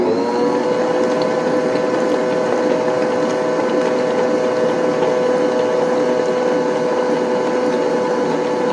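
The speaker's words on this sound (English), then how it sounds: "We're going to turn it on and start mixing it up until it's fluffy." An electric mixer whirs steadily as it beats cake batter, a continuous close motor drone with a constant pitch and no pauses throughout.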